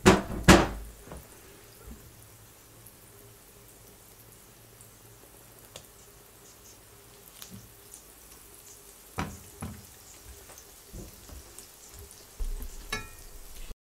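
Chicory cooking in melted margarine in a pan, heard as a faint low sizzle with a sharp clatter at the start and occasional utensil knocks and scrapes scattered through, no voices.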